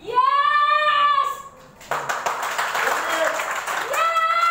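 An audience breaks into clapping for a few seconds between stretches of tonal, sung or drawn-out voice, loud and close.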